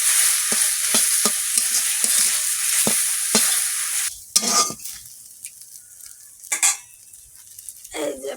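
Salted jute leaves fry slowly in a pan with a steady sizzle and regular spatula taps for about four seconds, then the hiss cuts off, leaving a few isolated clinks and scrapes.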